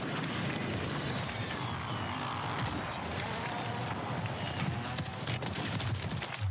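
Rapid hip-fire bursts from an MCW rifle in the Warzone video game, a dense, continuous rattle of shots that stays loud and busy throughout, mixed with game noise.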